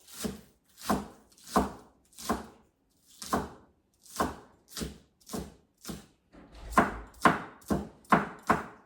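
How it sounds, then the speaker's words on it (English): Five green onions are chopped on a chopping board, about fifteen crisp knife thunks in an even rhythm with a short pause midway, close and clear with no talking. "start to chop this. I have five green onions here."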